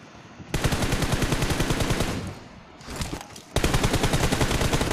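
Rapid automatic gunfire in the mobile shooter BGMI, loud close bursts of shots in three stretches separated by a brief lull, with no talk over it.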